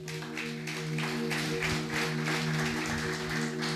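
Steady applause from a church congregation during a sermon fills the room, continuous clapping over a constant low electrical hum.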